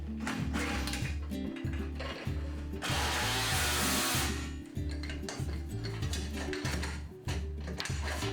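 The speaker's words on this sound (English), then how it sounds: "So I'm using those same jigs that we used in the beginning of the video to actually drill some holes in the top layer" A power drill bores holes through the top layer of a workbench guided by jigs, in short repeated whirring bursts with one longer, harsher stretch in the middle, fairly quiet overall.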